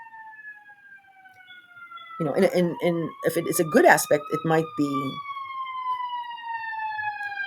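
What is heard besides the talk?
emergency vehicle siren passing outside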